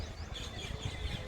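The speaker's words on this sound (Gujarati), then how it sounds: "અવાજ સાંભળી રહ્યા છો પોપટના, ચકલીના." Parrots and sparrows calling outdoors on a dry day: faint, scattered chirps and tweets under a steady background hiss, with no voices.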